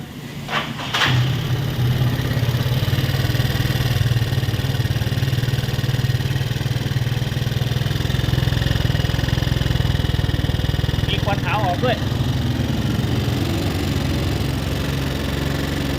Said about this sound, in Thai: มีเสียงเครื่องยนต์ดังอยู่ช่วงบน